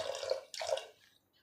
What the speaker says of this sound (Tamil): இந்த பருப்பு தால் மூழ்கிற அளவுக்கு தண்ணியை ஊற்றி